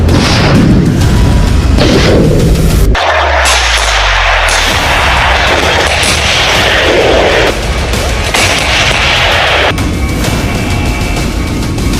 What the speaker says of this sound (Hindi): एडवांस टैंकों से 1 मिनट में कई राउंड फायरिंग हुई।